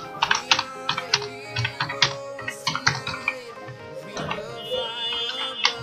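Rapid, uneven clicking of a computer keyboard as a date is typed into MS Word, the keystrokes close and distinct with a few short pauses between bursts.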